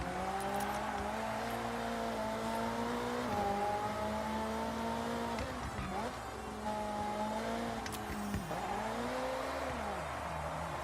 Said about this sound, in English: Just going to go for the cockpit view, just to show you the Ferrari.